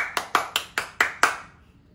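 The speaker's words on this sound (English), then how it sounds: "Everybody clap." Six sharp, evenly spaced hand claps indoors during a home worship gathering, crisp and close, each ringing briefly before the room falls quiet.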